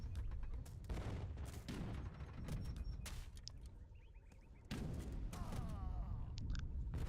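Artillery fire in a strategy video game: repeated loud booming blasts and crackling volleys of gunfire arriving in bursts, with brief quieter gaps between them.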